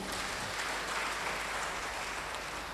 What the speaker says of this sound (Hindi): आप लोग अपने लिए एक जबरदस्त ताली बजा लीजिए